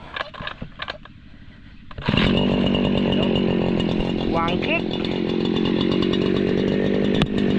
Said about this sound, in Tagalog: Ito lang natin yung grass cutter ko.